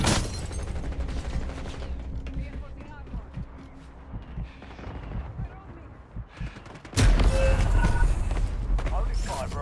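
Rapid bursts of gunfire from a video game shooter crackle over a noisy background, with a sharp loud volley near the end; a voice talks over parts of it.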